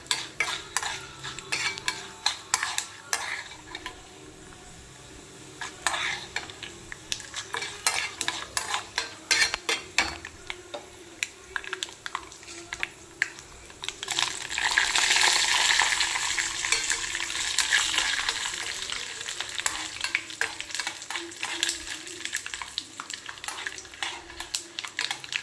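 A pan on low flame gives a soft sizzle under a long run of rapid scraping and clattering stirs with a metal spoon. The frying swells louder in the middle stretch, and no one speaks.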